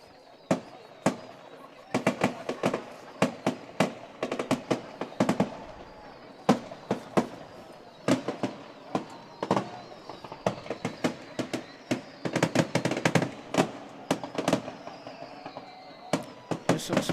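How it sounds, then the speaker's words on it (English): Fireworks at a small-town Friday night high school football game, a long run of sharp booms and crackling bursts, some clustered in rapid volleys, echoing across the field with faint crowd murmur beneath. "followed by some nice fireworks out there"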